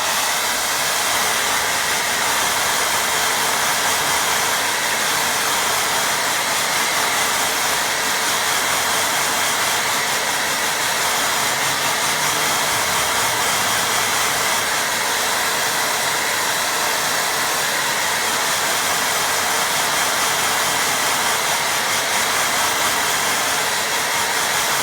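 A hair dryer blows steadily on a watercolour painting, a loud, constant whooshing roar that holds unchanged for the whole stretch with no other sounds on top.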